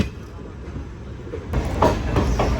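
Chennai–Visakhapatnam weekly superfast express pulling into platform 7 at Visakhapatnam Junction behind an electric locomotive, a low rumble that swells halfway through into louder rattling wheel clatter and brief metallic squeals.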